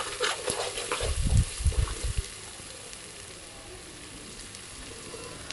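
Onions and spices sauté in a pan for Dindigul Thalappakatti-style mutton biryani: a constant frying hiss with a cluster of dull low knocks early on, then settling into a quieter sizzle.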